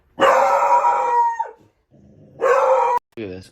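A bull terrier howls loudly and close by in two long, drawn-out wails, each ending in a falling slide, with a short yip at the end.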